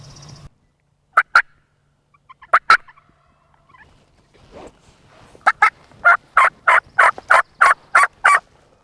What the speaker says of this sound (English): had turkeys all around us, fired up